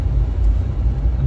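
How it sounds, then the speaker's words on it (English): A Fiat 500 Hybrid engine revs hard while climbing a hill, a loud, steady low rumble from inside the car, droning without pause. "with this hybrid car, it's extremely noisy, and you really have to rev the engine if you want to have any power going uphill"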